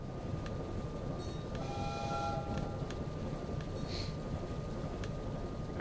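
Train rolling past in a dark horror video game, a steady loud rumble filling the whole stretch with faint high whistle tones and a brief horn-like tone drifting over it.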